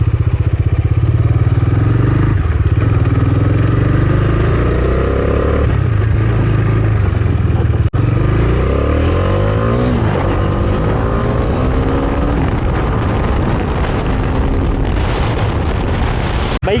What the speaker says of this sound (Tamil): எக்ஸாஸ்ட் வெறித்தனமாக இருக்குது கைஸ்